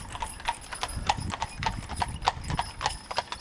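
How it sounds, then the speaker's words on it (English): Horse hooves clicking on a street at a museum village, a quick, steady clip-clop of several close, crisp strikes each second, with a faint murmur of background voices. "you hear the hooves a clicking."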